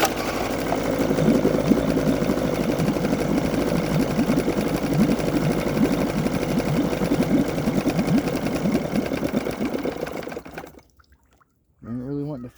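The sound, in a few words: small boat outboard motor running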